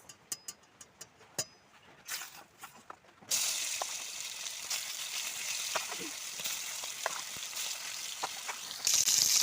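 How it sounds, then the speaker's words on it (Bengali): Catfish pieces go into hot oil in a wok after a few seconds of sparse ticking pops, then a loud, sustained sizzle with crackles that swells again near the end. "তেলটা এবার গরম হয়ে গেছে, এখন আমি দিয়ে দেবো মাছ।"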